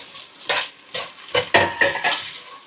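Small onions fry in a pot for biryani, stirred with a series of four or five sharp, close scraping strokes over a soft sizzle, with no talking.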